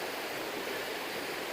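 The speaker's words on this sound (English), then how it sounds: "And this is the creek I've seen so much on videos." A creek along the Appalachian Trail in Tennessee rushes past in a continuous, even hiss of flowing water, moderately distant and heard alone.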